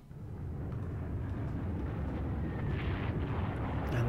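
A battleship is destroyed in Panzer Corps, a deep rumbling explosion that swells and builds steadily over several seconds with a heavy low roar and no talk.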